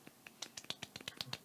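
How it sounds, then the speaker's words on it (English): Light golf clap from a small group on a sports talk show, a quick run of soft, sharp claps at an uneven rhythm, close and clear with no talking. "We'll give a little golf clap"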